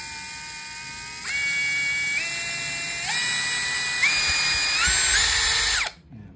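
An INGCO cordless drill runs at low speed with a steady whine that steps upward in pitch several times as the trigger is squeezed harder, loud and close, then cuts off abruptly, with no speech.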